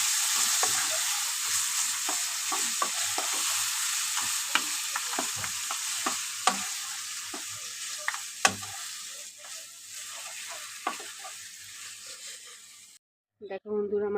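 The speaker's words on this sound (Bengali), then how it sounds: "বেশ ভালো করে নাড়িয়ে দিয়ে একটু গ্যাসটা কমিয়ে ঢাকা দিয়ে রেখে দেবো।" Taro greens with salt and turmeric cook in a pan, a dense steady hiss with scattered clicks from stirring, before the sound cuts off abruptly near the end.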